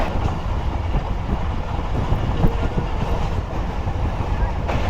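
The Rehman Baba Express passenger train rolls toward Jambir railway station, a continuous loud rumble with the clatter of wheels on track, steady and close throughout.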